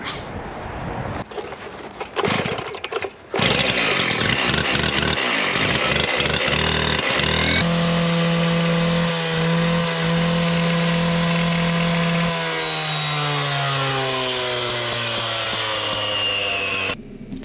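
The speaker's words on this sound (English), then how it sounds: "So this is a steel TS420 concrete cutoff saw." Stihl TS420 concrete cutoff saw cutting paving stones, a loud continuous engine roar with grinding abrasive cutting that rises and falls in pitch as the blade bites and frees, ending with the engine revving down near the end.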